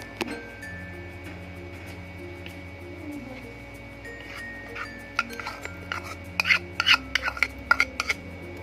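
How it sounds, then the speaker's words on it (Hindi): A spoon works spice masala into mango pickle with soft metallic scrapes and light clinks against the bowl. The strokes grow sharper and more frequent toward the end, with no talking. "अब हम इसमें मसाला जो हमने बना के रखा हुआ था वो मिक्स कर देंगे।"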